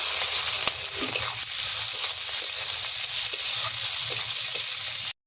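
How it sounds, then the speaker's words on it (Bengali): Sliced onions fry steadily in hot oil in a kadai to make crisp birista for pork biryani, a continuous close sizzle with occasional crackles and stirring, no voices. "এবার বেরেস্তাটা ভেজে নেব। এবারে এই পেঁয়াজটা বেরেস্তা বানিয়ে"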